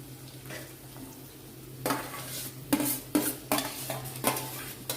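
Tomatoes tipped into a hot pan with sautéed capsicum for Chinese rice, sizzling steadily while a spoon scrapes and clanks against the metal in several sharp, close strokes.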